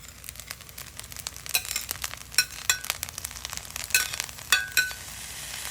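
Chopped vegetables drop into a hot pan and fry, a steady crackling sizzle with a handful of sharper pops and spatters standing out, close and alone with no voices.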